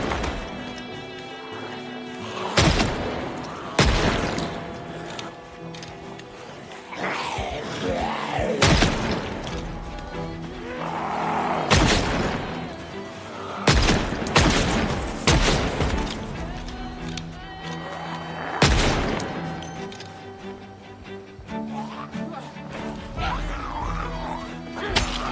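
Heavy explosions and loud crashing bangs in the zombie survival game Project Zomboid, several strong separate booms spaced across the stretch amid ongoing clatter and mechanical game noise.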